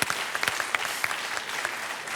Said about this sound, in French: on vous applaudit, Robert.